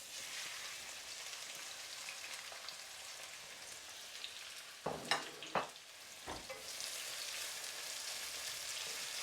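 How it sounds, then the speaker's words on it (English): Three medium onions frying in hot ghee for chicken biryani, a steady crackling sizzle throughout with a few brief clanks of a utensil against the pan midway. "what you're doing is you're sort of frying the onions to get that flavour"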